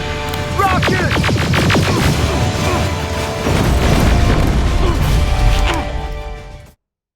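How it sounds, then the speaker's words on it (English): A rocket explosion in the shooter game Terminator: Resistance, heard as a loud crashing boom followed by rumbling debris and clatter, with shouting voices mixed in before the sound cuts off. "Rocket!"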